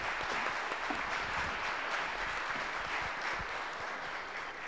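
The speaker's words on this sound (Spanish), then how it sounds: "les pido un aplauso y dar la bienvenida" Steady audience applause fills the room at a talk on criminal investigation of tax crimes, a dense, even clatter of many hands that holds at a constant level throughout with no voices over it.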